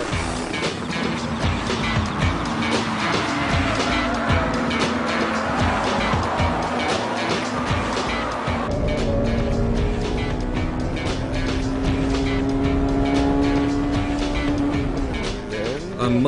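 A Honda Civic EK9 Type R engine screams at high revs during a race against other cars, a loud continuous rising and falling drone with gear changes, heard close up from the car.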